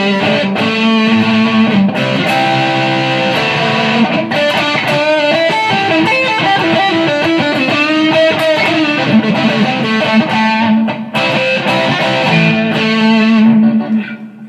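A cheap electric guitar on its neck and middle pickups plays a distorted bluesy run of chords and notes, loud and up close, with no voices.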